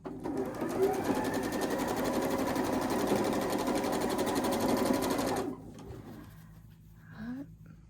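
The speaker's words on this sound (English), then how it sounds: "So I'm just sewing my columns together right now" A sewing machine runs fast and steady while quilt block columns are stitched together, a dense continuous whir that stops abruptly, leaving a quiet room with a brief faint coo.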